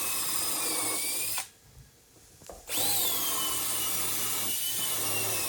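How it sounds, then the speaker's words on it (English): A power drill whines continuously up close while pre-drilling holes into wall studs, stops for about a second, then starts again and keeps running steadily. "Pre-drill some holes into the studs."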